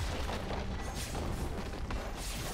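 A turret blown up in the League of Legends video game: a deep booming explosion with rumbling bursts, moderately loud and continuous over a few seconds, with no talk.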